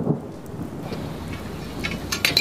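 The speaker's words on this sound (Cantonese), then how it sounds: "而家落咁大雨嘅" Heavy rain pours steadily with a low rumble of thunder at the start, fairly soft and distant, with a few sharper splashes near the end and no voices.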